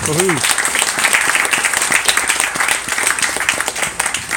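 Wedding guests applaud the bridesmaids during a brother's speech, with lively, close clapping and a short vocal cheer at the start, then a dense, steady round.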